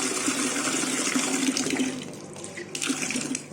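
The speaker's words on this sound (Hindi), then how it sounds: "नाला छोटी सी धीरे पानी आ रहा है। पानी की रफ्तार तेज है।" Fast water rushes steadily through a small drain channel outdoors, a loud continuous close-up gushing that eases slightly toward the end with no talking.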